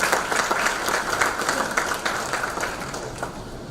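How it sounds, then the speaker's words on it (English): Steady applause from a crowd, dense overlapping clapping that carries on throughout at an even level. "I think that we all deserve the applause"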